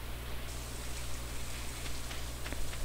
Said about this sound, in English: Ooh, and it's raining again.